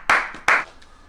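Two sharp, close hand claps about half a second apart, each ringing briefly before fading, followed by a faint third tap and quiet.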